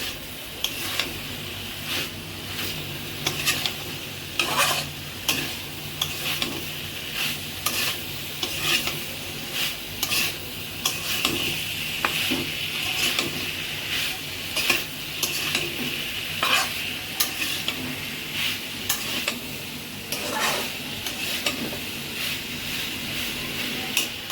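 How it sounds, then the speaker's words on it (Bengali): Vegetables stir-fry in hot oil in a pan, a continuous sizzle punctuated by frequent scraping and tossing strokes of a spatula, close and moderately loud with no talking. "সবজিগুলো দিয়ে আবার একটু কষাবো আমি"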